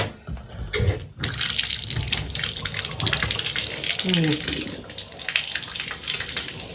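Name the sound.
water running from kitchen tap with aerator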